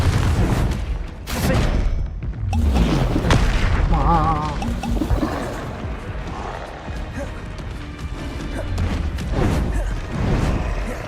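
Loud booming explosions from the Confringo fire spell in Hogwarts Legacy burst through combat, with blasts and crashes in quick succession amid game effects and a player's voice.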